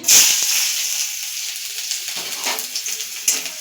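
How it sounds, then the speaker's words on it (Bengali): Chopped onion sizzling in oil in a wok for chicken rolls, a bright hissing burst at first that settles into a steady close-up sizzle with faint stirring scrapes. "পেঁয়াজ কুচিটা হালকা লাল করে একটু ভেজে নেব"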